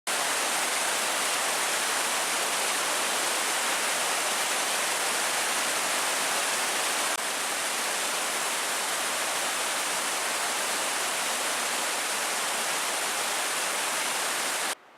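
Waterfall above a desert mountain campground at night, a constant loud roar of rushing water, steady and unbroken with no talk.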